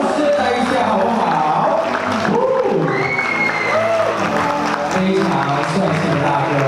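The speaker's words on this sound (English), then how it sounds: "Let's give a round of applause" A crowd applauds and cheers as the groom's parents and big brother walk into a wedding luncheon hall, dense clapping held loud and steady throughout, with voices mixed in over it.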